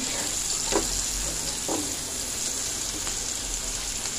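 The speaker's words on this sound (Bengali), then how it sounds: "এবারে নেড়ে নেব, এটা একটু ভাজা ভাজা হোক।" Onions frying in a pan with salt and a little turmeric for kanda poha, a steady close sizzle throughout with a few soft scraping stirs of a spoon.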